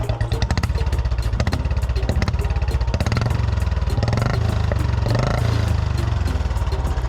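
Royal Enfield Bullet motorcycle engine running with its turbo whistle removed, a loud close thumping idle with a steady rapid pulse and a slight rise in revs midway, no voices over it.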